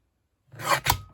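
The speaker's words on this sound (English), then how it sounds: "trim that edge off" Paper edge being trimmed for a junk journal makes two quick, close rasping cuts in a row, soft and brief, with no talking.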